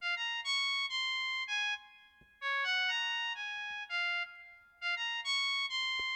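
A woodwind-style synth preset built on VIB, played in an FL Studio Afrobeat beat: bright, reedy sustained notes in short melodic phrases with brief gaps, clear and alone.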